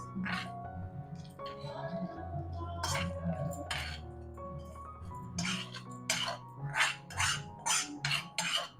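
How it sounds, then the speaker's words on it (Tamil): Kitchen clatter as a ground mixture is moved into a mixer jar: metal spoons scraping and clinking against steel vessels in quick irregular taps, growing busier toward the end, with faint background tones and no talking. "இதை மிக்ஸி ஜாரில் மாற்றிடுவோம்."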